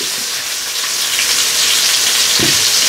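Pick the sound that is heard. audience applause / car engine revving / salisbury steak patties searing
salisbury steak patties searing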